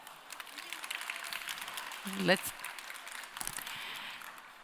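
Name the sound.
audience applause for speaker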